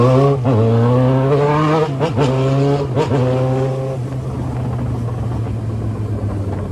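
Yamaha XJ6 motorcycle fitted with a 3-inch exhaust revs hard several times, each rise in pitch cut off sharply, then settles into a rough, loud idle rumble up close.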